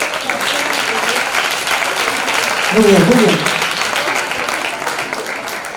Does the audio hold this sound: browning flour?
no